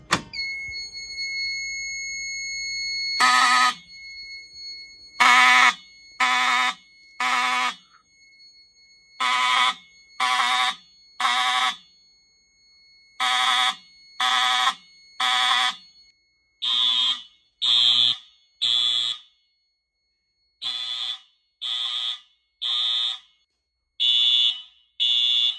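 A vintage Wheelock fire alarm sounds during a system test: a long steady tone, then repeated loud pulsing horn blasts in groups of three, close and echoing in an indoor space.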